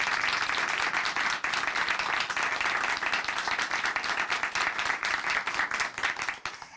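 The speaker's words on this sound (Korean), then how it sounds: "저희 다시 한번 응원의 박수 보내드리도록 하겠습니다" A church congregation in Chuncheon applauds a sister after her testimony of faith on a Christian broadcast, several seconds of steady, dense clapping from many people that tapers off toward the end.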